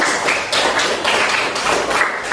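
A classroom of students applauds, a loud, close burst of many hands clapping in a quick, uneven rhythm that holds steady without speech over it.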